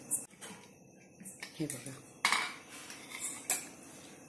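A cooled pressure cooker is opened and cooked ghee rice is handled in a home kitchen, giving scattered metallic clinks and scrapes of utensils and pot under a woman's brief speech.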